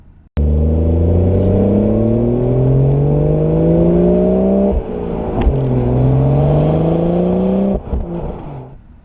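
A BMW fitted with M Performance parts and a limited slip differential, driven hard with a loud, close engine note climbing steadily through the revs, dropping briefly at a shift, then climbing again.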